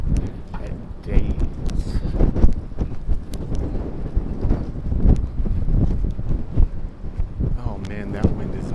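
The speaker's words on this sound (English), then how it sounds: "Man, that wind is not fun." Gusty wind buffets the microphone outdoors on a downtown Minneapolis street in December, a loud rumbling roar with uneven surges, while someone talks over it.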